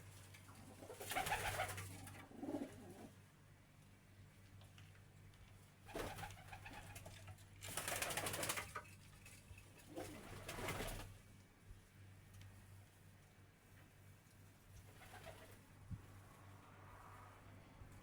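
Pigeons cooing nearby in repeated soft, throaty bursts separated by quieter pauses, with faint background noise and no talk.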